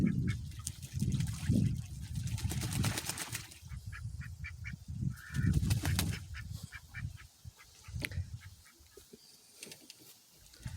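Pastured Pekin and Rouen ducks quack and honk repeatedly in loud, overlapping bursts, close by, over a wet, splashy background.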